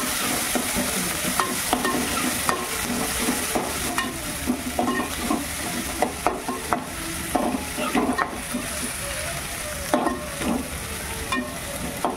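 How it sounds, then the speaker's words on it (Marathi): Chopped onion sizzles and fries in hot oil in a cooking pot for soya chili, a steady close crackle broken by sharper stirring scrapes and clicks, with no voices. "त्याच्यात मी आता कांदा घालते"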